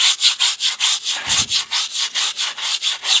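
A brush scrubs the inside of a Porsche 911 wheel in quick, regular back-and-forth strokes, a loud rhythmic scratching that repeats about every quarter second, with one brief thump partway through.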